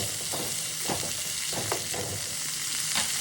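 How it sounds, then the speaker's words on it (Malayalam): Chopped tomatoes fry in hot oil with a steady broadband sizzle, punctuated by several short stirring scrapes spaced through the clip; close and fairly loud, no voices. "ഇതും കൂടെ ഇട്ട് കൊടുത്തിട്ട് നമുക്ക് നല്ല ഈ എണ്ണയിലിട്ട് കാണാൻ നല്ല ഒന്നങ്ങോട്ട് മൂപ്പിച്ചെടുക്കണത്"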